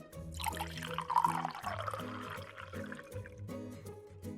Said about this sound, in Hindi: इसे अभी पानी दे देते हैं